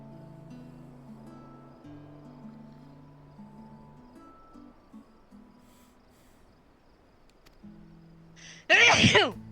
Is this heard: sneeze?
yes